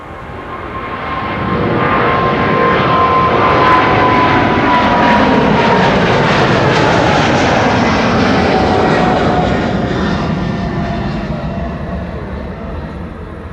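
A KLM airliner, flight 641 to New York JFK, takes off from runway 24 at Amsterdam Schiphol on a sunny day: a loud, broad jet engine roar swells, holds for several seconds and slowly fades, with no talk.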